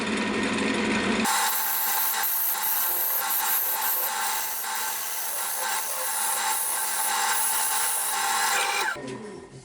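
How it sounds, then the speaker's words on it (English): A carbide cutter takes heavy cuts from wood spinning on a lathe, making a loud, continuous bright scraping rasp for about eight seconds at close range. Quieter motor noise comes before and after the cut, and no one speaks. "I'm going to carry on with my carbide cutter because that'll take quite a lot off"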